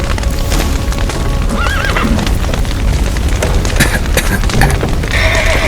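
Horses neigh and whinny over clattering hoofbeats in The Witcher 3: Wild Hunt, loud and busy, with crashing noise mixed in throughout.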